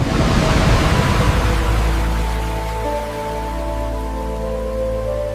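Storm-like rain and rushing floodwater effect in a narrated folk tale, a loud broad wash of downpour with low rumble that eases slightly but keeps going, no voices.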